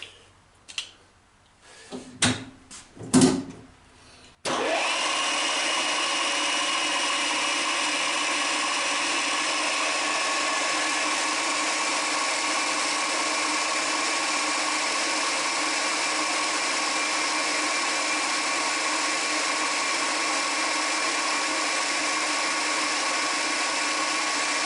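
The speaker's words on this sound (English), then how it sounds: "I have here some kind of ball end mill to make a pre-drill hole" A ball end mill is set up to pre-drill a hole in metal for a shaper sliding block. A few close knocks and handling clunks come first, then a loud, steady machine whine that holds unbroken for about twenty seconds.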